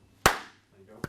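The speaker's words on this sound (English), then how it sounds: "Ollie's clap." A single sharp hand clap rings out loudly and close, followed by a fainter second tap about a second later, with a quiet indoor background.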